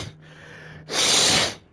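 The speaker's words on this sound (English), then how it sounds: "I'm blowing my nose" A person blows their nose once in a short, forceful, breathy burst, close by, after a faint sniff.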